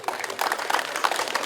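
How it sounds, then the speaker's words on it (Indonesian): A crowd of volunteers at an Indonesian political rally for Anies Baswedan claps in dense, steady applause that fills the whole moment, with no distinct voices on top. "Tepuk tangan."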